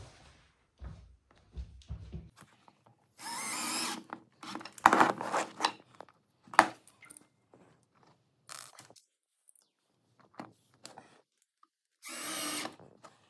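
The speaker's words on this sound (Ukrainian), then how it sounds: "Ми беремо 16 саморізи і на самий угол з однієї сторони закріплюємо." A power screwdriver drives self-tapping screws into plastic corner brackets while assembling a Layt chest of drawers by AS Mebli. Several short, loud whirring bursts are separated by quiet pauses, with small knocks and handling noises close by.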